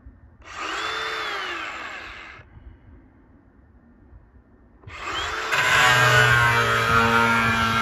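Power tool cutting into the quarter panel sheet metal of a 1964 Chevrolet Impala convertible, two loud whining bursts separated by a quieter pause, the second cut harsher and sustained to the end.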